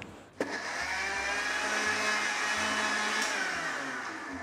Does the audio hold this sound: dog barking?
no